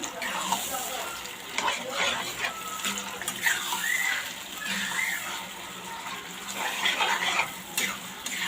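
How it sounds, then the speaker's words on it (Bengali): Hilsa fish head frying in oil in a black iron wok with taro greens gives off a steady crackling sizzle, broken by stirring scrapes and splashes, while a voice talks quietly over it. "আমি এটা লোহার তেলের কড়াইতে ভাজতেছি।"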